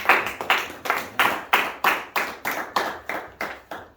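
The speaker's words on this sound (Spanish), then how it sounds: "Denle un fuerte aplauso a la gloria de Dios y póngase de pie." Congregation in a church clapping in unison, about eleven sharp, evenly spaced claps in a steady rhythm, loud and close with no talking.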